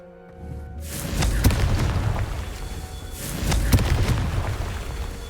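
Confringo blasting spell in the Hogwarts Legacy video game, two booming explosions a couple of seconds apart, each a sharp crack followed by a rumbling roar.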